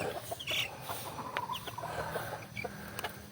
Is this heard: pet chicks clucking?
yes